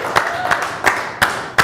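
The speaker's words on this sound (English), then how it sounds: "let's give a big round of applause" A round of applause from the audience at a live fine art auction, heard as a few spaced, distinct claps over a faint crowd background.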